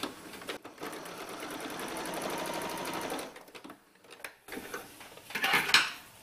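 A sewing machine runs a straight stitch through denim for a blue jeans envelope purse, whirring steadily up close for about three seconds, then stopping and starting again in shorter bursts.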